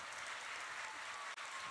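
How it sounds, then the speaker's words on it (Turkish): An audience applauds at a Turkish folk music concert held by a university conservatory, a dense, even wash of clapping from many hands that holds steady throughout with only a brief dip near the end. "Bir alkış alalım alkışın durumuna tabii göre."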